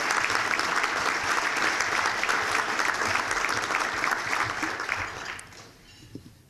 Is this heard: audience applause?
yes